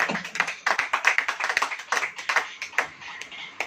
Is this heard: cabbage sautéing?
no